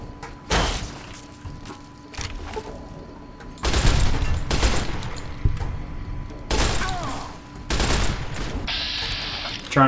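Gunfire in Fallout: New Vegas, loud sharp shots and bursts fired in uneven clusters with thuds and echoing gaps between them.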